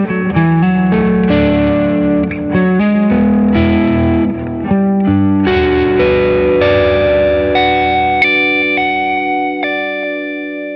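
An electric guitar through a HeadRush Core amp modeler with a lightly overdriven, slightly crunchy breakup tone plays a run of ringing chords and single notes, alone and fairly loud.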